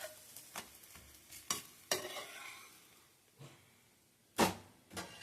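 A protein-rich dosa cooks on a hot pan, giving off soft frying sizzle broken by several sharp scraping and stirring clicks from a utensil, with one louder scrape near the end; no one speaks.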